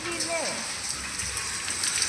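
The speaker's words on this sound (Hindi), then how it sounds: "चलिए आपको दिखाती हूँ मैं बाहर बारिश कैसी हो रही है।" Heavy rain pours down outside in a dense, continuous roar of drops striking surfaces, close and loud throughout, while a voice speaks briefly at the start.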